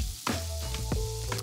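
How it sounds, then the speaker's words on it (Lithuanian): Celery and carrots sizzle steadily in a frying pan, with a dense continuous hiss and a few sharp crackles and stirring clicks close by, no talking. "Ir dabar salierus ir morkas apkepinam."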